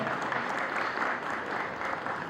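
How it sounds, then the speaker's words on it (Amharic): An audience at a logo unveiling ceremony gives warm applause: dense, sustained clapping at a constant level throughout, with no speech over it. "አንድ ጊዜ ሞቅ ያለ ጭብጨባ ያስፈልጋል።"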